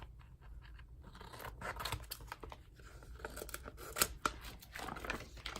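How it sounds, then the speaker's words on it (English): Scissors cutting loosely around a piece of sequin fabric, with close, irregular snips mixed with scratchy, crinkling rustle. "We're just going to cut it kind of big around there."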